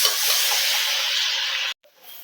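Steady close hiss of vegetables frying with ginger garlic paste in a hot pan, cutting off abruptly near the end.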